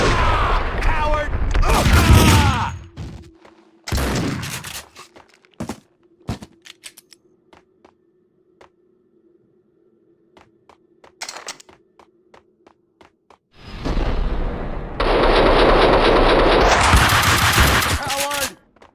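Gunfire in the PC game Max Payne 2: bursts of rapid automatic fire and scattered single shots, loud and close, with pauses between volleys and shouted voices in the mix.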